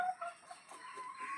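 Domestic hens make soft, continuous clucking and murmuring sounds close by in a morning farmyard, steady and moderately quiet with slight rises and falls.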